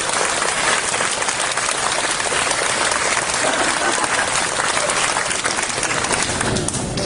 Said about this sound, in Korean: 양천 발전 신화의 주인공 김용태 형님께 큰 박수 한번 부탁드립니다